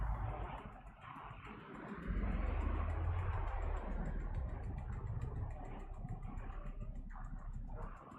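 A truck engine idles in the zombie survival video game Project Zomboid, a steady low rumble that holds at a moderate level throughout with no speech over it.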